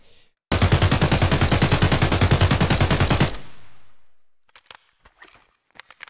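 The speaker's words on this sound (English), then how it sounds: "I'll shoot the first mag without crouching" An AK rifle in Escape From Tarkov empties a full magazine in one continuous burst of rapid, loud shots lasting about three seconds, followed by a fading echo and a few faint clicks and handling sounds.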